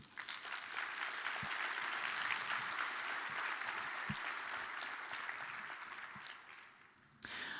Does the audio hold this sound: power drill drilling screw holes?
no